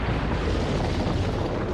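A dynamite blast tearing apart the exit stairway of an underground colony base in The Colony, a loud, sustained roaring rumble of explosion and debris filling the whole moment, with no speech.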